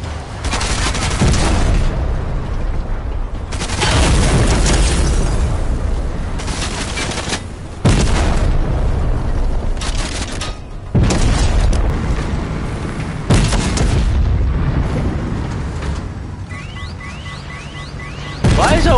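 Missile strikes and tank combat in Fortnite battle royale, a run of heavy booming blasts with crackling gunfire, each loud burst landing every few seconds and ringing out before the next, with a faint voice briefly beneath.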